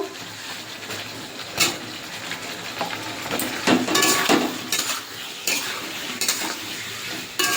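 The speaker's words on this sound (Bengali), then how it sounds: "এবার আমি আস্তে আস্তে এটা মশলাটা কষাবো" Masala being stirred and fried in a pan with potato and ridge gourd for a katla fish curry, with scraping utensil strokes and clinks over a steady sizzle, close and fairly loud, no talking.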